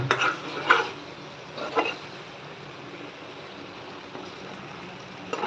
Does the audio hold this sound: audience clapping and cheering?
no